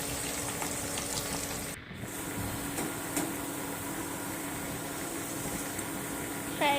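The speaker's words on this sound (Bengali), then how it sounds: "তারপরে পেঁয়াজ কুচানো, কাঁচা লঙ্কা, আদা রসুন পেস্ট দিয়ে ভালো করে ফ্রাই করে নিতে হবে।" Chopped onion, green chili and ginger-garlic paste sizzle in hot oil for a fish recipe, a steady close frying hiss. It dips briefly partway through as the food is stirred or moved.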